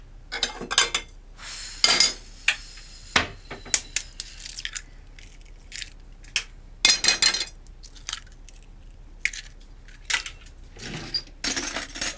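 In a kitchen during preparation of egg bread, dishes, cutlery and pans clatter and clink in irregular bursts, sharp metallic knocks and scrapes spread across the stretch with quiet gaps between.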